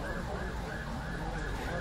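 A fire engine siren wails steadily in the distance at an accident scene under a noisy background, its tone sliding up and down.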